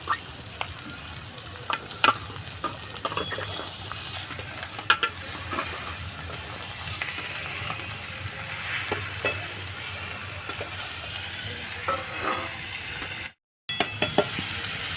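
Ridge gourd tossed into browned onions in a hot pan for a fish-roe fry, sizzling steadily throughout with frequent scraping and clinking stir strokes, close and continuous with no talk.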